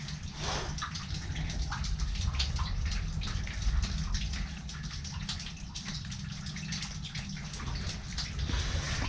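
Water drips and trickles steadily inside a flooded abandoned 1880s iron mine after rain, a continuous wet patter close by with no voices.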